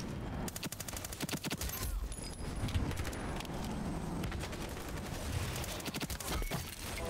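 MP5 gunfire in Ironsight, an online shooter game, comes as rapid automatic bursts of sharp cracks, loud and close, repeating through the stretch with brief gaps and mechanical clatter.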